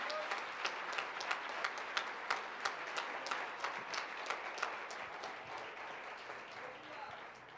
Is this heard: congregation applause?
yes